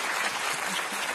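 Studio audience applause on a French television talk show, a steady dense wash of clapping filling the whole moment without any break.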